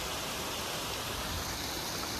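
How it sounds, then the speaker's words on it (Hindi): Ice-cold water from a snow-fed mountain stream on the Kyarkoti trek flows in a steady, close, broadband rush with no breaks. "ऊपर से आ रहा है पानी एकदम"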